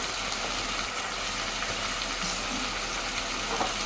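Masala for a dal mash dish fries in a pan, an even, dense sizzling hiss that holds steady and fairly loud throughout without speech.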